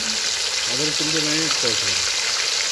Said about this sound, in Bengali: প্রথমেই মাংসগুলোকে সব ভেজে নেবো, সব লেগুলোকে আগে দিয়ে দেবো।